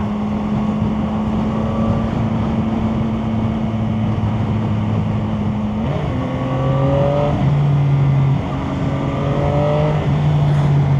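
A CF Moto motorcycle ridden with traction control switched off, its engine droning steadily and close, then revving up through several rising pitch sweeps as it shifts gears and accelerates.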